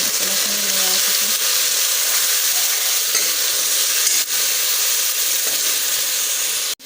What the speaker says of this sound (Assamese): দি পেলাই মই মছলাখিনি লৰাই থাকোঁ